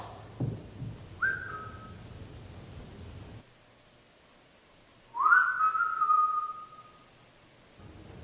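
Two short whistled notes over quiet background hiss, the first brief and the second a longer, louder sliding tone a few seconds later.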